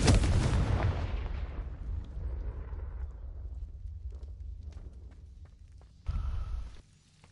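A Confringo fire-blast spell erupts in a Hogwarts Legacy herbology corridor: a loud, sharp explosive burst at the start that rumbles and decays over several seconds, followed by a brief bright crackle near the end.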